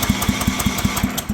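A lawnmower engine mounted horizontally runs with a steady, rapid chugging pulse, about five firing thumps per second at close range, loud and alone.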